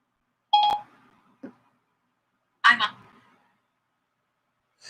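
A phone beeps during a livestream, giving a few short, loud electronic tones spaced apart against silence.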